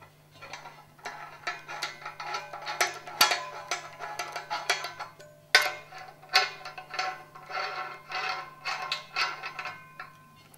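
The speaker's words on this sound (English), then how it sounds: "finding the thread for the screws and winding them in" Screws are wound in by hand while overhead signage is installed, giving quiet, rhythmic ratcheting clicks and small creaks that come in short bursts, close up, over a faint steady hum.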